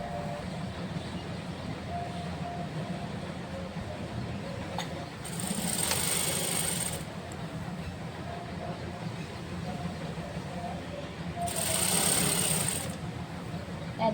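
A sewing machine stitches a farshi salwar in two short bursts of fast whirring, separated by quieter stretches with a steady background hum and occasional speech.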